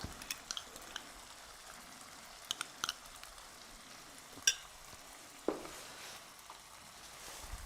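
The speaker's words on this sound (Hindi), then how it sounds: "और इसको अच्छे से मिक्स करेंगे और अब हम वापस से इसको भूनेंगे" Masala for a cauliflower and green pea curry sizzles quietly in a pan while a spoon stirs it, with soft steady frying hiss and a few scraping clicks and knocks of the utensil.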